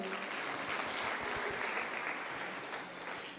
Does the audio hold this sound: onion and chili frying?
no